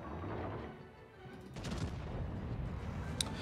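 Warship secondary guns firing in a naval battle game, featuring the battleship Admiral Schröder, heard as muffled, distant booms and rumbling bursts at low volume, growing denser after a short lull.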